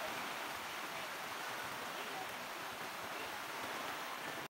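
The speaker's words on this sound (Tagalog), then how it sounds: "Dahil umulan na nga" Rain falls steadily, a dense, even hiss of drops that continues unchanged throughout without talk.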